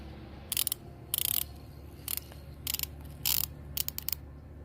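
A hand ratchet clicks in short bursts during a Subaru Legacy transmission fluid drain, six separate runs of rapid close pawl clicking with quiet pauses between them.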